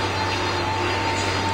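Jet airliner engines in a flight simulator hum during pushback, a steady, loud whine over a low drone that holds constant throughout, close and unbroken, with no one talking.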